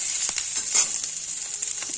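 Cauliflower frying in hot oil gives a bright, steady hiss close by, with a few soft taps and stirring knocks scattered through the short stretch, and no one speaks.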